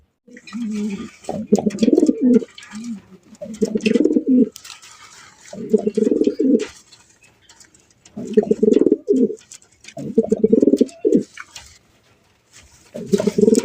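A pair of big Chila pigeons coo in repeated low, throaty bursts, close and loud, with short pauses between calls.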